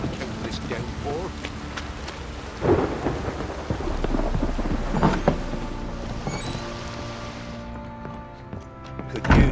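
Steady rain downpour with rumbling thunder in The Witcher 3: Wild Hunt, a continuous wash of rain with low thunder swells and occasional louder crashes, under game character dialogue.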